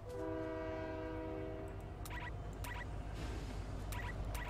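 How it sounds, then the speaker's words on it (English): A train horn in the video game Fortnite blares in long sustained chord tones, followed by several short repeated honks over constant rumbling train noise, loud and close with no talk. "I just jumped on a train."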